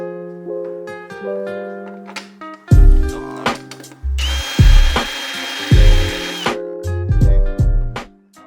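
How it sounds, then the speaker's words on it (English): A power drill bores holes for a chassis-mounted splitter support on a G37, whining up in several short, close bursts with pauses and clunks between them. "We just drilled out all the holes for the support, and we did countersunk holes"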